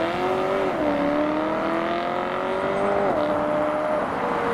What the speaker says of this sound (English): Next we've got the M3 Cabriolet leaving Ferrari.